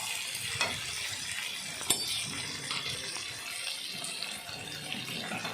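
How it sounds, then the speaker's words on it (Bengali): Jackfruit and potato frying and being stirred in a pan, a watery hiss of sizzling oil with occasional spoon knocks and scrapes, close and continuous, no speech. "এঁচড়গুলো এখন দিয়ে দিলাম, সাথে আলুটাও এখন একটু নেড়ে চেড়ে আলুটাও দিয়ে দেব।"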